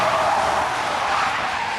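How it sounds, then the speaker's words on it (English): Car tyres skidding hard as the driver slams on the brakes, a loud continuous screech that holds steady for the full couple of seconds with no voices. "slams on the brakes as a tree blocks their path"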